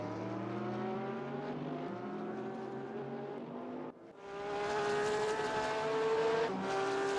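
Race car engines from a Porsche and an AMG in the RaceRoom racing game, a sustained high-revving drone with shifting harmonic pitch, a brief dip near the middle before the engines surge back loud and steady.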